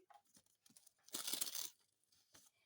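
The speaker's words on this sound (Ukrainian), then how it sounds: "Я взяла ще один пакетик, давайте відкриємо швиденько." A small paper surprise packet being torn open by hand, with faint crinkles before a loud close tearing rip, then a few soft rustles.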